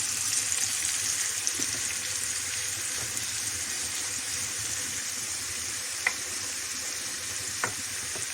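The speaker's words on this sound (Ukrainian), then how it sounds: "Все тут вже все кипить, вариться." Pea soup with carrot and onion simmers in a pot with a steady hiss and bubbling, plus a couple of soft clinks. No one talks.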